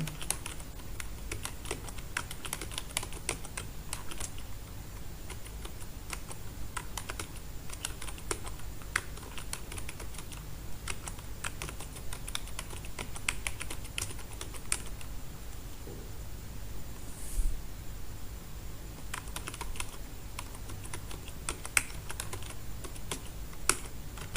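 Names typed into an Excel sheet on a computer keyboard, a steady run of fast, quiet key clicks continuing for the whole stretch with brief pauses, close-miked and unaccompanied by talk.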